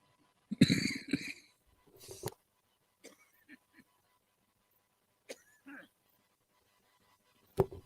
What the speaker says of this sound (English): I was just getting ready to turn the mic on and I had to cough